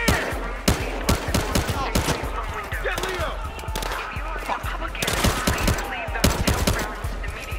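Dense gunfire from Battlefield Hardline rattles through a chaotic casino-style shootout, sharp shots and bursts repeating throughout under shouting and game voices.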